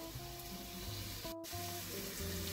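Chopped onion sizzles in olive oil in a pot, with a soft, steady crackle and hiss and a brief gap partway through.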